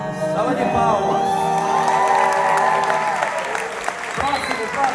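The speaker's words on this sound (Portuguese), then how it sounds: "Salva de palmas." Audience applause and cheering after a gospel quartet singing challenge, a loud sustained mix of clapping, whoops and shouts from a crowd, with a few voices calling out over it.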